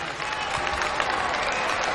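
An audience at a London peace and unity conference applauds, a dense steady wash of many hands clapping together, loud and continuous throughout.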